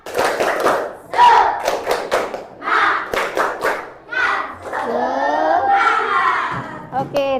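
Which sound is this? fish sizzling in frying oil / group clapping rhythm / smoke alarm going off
group clapping rhythm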